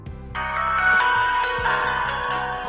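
An elderly-friendly Doro mobile phone plays its power-on tune, a bright electronic ringtone-like melody of several chiming notes over a steady low tone, clear and close with no talking.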